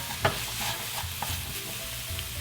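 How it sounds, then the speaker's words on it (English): Ground beef seasoned with salt, adobo and garlic powder fries in a pan while being stirred and broken up, a steady close sizzle punctuated by sharp spatula scrapes and taps. "Constantly always trying to break down the ground beef"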